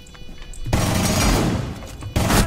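Shotgun blasts in Rainbow Six Siege: a sharp loud shot followed by a decaying rumble, then a second close blast near the end.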